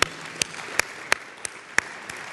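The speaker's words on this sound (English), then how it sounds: "I think we can give them a round of applause if you wouldn't mind." Audience applause at a Tri-City Chamber aerospace event in a convention center, heard as a soft continuous wash with a few sharper individual claps standing out.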